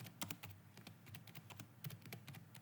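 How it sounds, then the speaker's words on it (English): Quiet, rapid keystrokes on a computer keyboard, an irregular patter of light clicks continuing steadily throughout, close by and without any speech. "Let me type welcome to"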